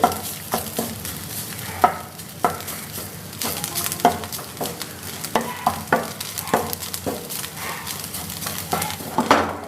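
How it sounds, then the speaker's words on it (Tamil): Dry desiccated coconut flakes sizzle and rustle in a hot pan while a spatula scrapes and taps steadily, a busy close-up cooking clatter with no talking. "நல்லா ஃப்ரை ஆகிட்டுருக்கு."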